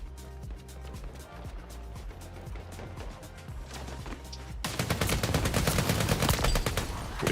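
Rapid gunfire in the first-person shooter game Empulse, a dense stream of shots that grows louder and fuller toward the end, with no talk.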